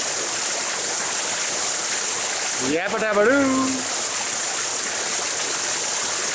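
Steady, loud rushing water from a waterfall at a forest monk temple fills the whole stretch, while someone briefly shouts an exclamation midway.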